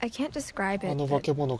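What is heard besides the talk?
No distinct noise like a dog, phone or traffic.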